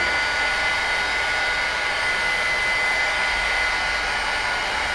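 A heat tool blows steadily and loudly over the layers of a mixed media painting, a constant close rushing hiss of hot air with no breaks.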